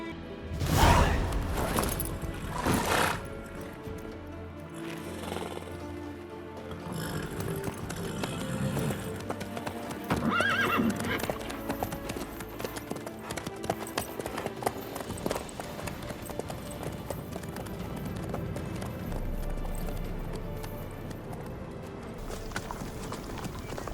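A horse gallops in The Witcher 3, rhythmic hoofbeats running steadily under background music, with a louder burst of movement at the start.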